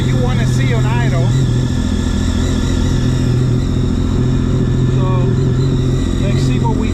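A SeaDoo RXPX Stage 3+ jet ski engine idles steadily with a low, constant rumble throughout, while people talk over it.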